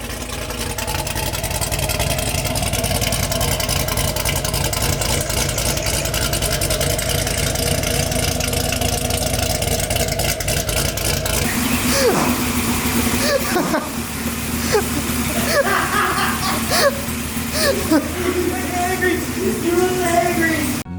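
A Camaro fitted with a swapped 1000+ horsepower engine idles loudly and continuously with a lumpy, throbbing rumble, its tone shifting partway through as the idle settles.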